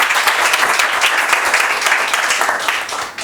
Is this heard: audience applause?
yes